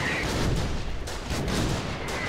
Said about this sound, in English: Shelling us from nowhere.